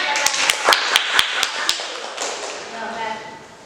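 Students clap in a classroom during an Islamic school lesson, a short burst of about nine sharp, evenly spaced claps that fades, with a teacher's voice audible over the second half.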